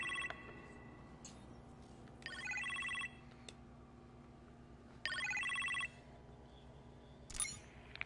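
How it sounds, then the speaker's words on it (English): Telephone in a kitchen ringing in an Iron Man VR video game, with repeated electronic trilling rings in short bursts over a quiet low background hum, fairly faint. "You appear to have a phone call in the kitchen"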